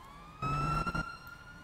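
A police siren wails in a video game, rising in a steady tone and swelling in a loud burst before easing back, with no talking over it.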